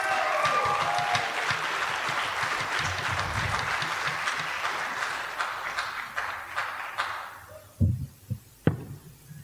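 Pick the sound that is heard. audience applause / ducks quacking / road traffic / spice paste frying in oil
audience applause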